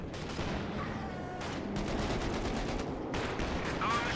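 Machine gun fire and scattered gunshots from a Company of Heroes 2 battle, a steady dense rattle of automatic fire filling the whole stretch under continuous battle noise, with brief heavier bursts near the middle and end.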